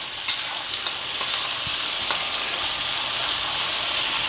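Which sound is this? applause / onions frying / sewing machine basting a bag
onions frying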